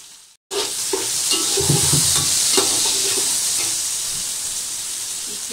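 Peas hit hot oil with frying garlic and ginger for chicken fried rice, bursting into a loud, steady sizzle after a brief silence and hissing on close by for several seconds with no talk.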